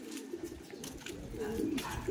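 A racing pigeon coos in its loft during summer race training in Quezon, low, soft rolling calls close by against a steady background hum.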